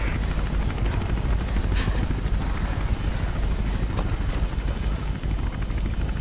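A helicopter in the video game Mirror's Edge produces a loud, steady rotor thump and engine drone with a rapid low chopping pulse, close and continuous, with faint scattered clatter on top.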